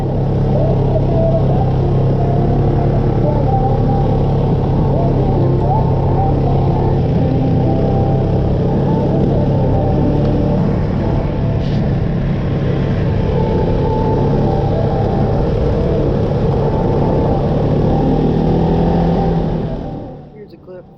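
An ATV climbing a steep muddy incline at a riding park: a loud, continuous engine drone held under load for about twenty seconds, close to the microphone, cutting off abruptly at the end.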